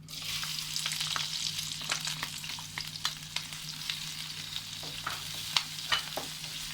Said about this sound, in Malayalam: ഞാൻ പച്ചമണം മാറുന്നവരെ നമുക്കൊന്ന് സവാളയൊക്കെ വഴറ്റിയെടുക്കാം